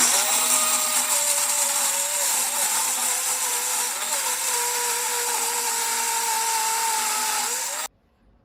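A kitchen mixer grinder whirs steadily and loudly, grinding coconut, tomato, onion, ginger-garlic, green chilli, coriander and curry leaves into a paste for a Konkan surmai fish curry, its motor pitch wavering slightly before it cuts off abruptly near the end.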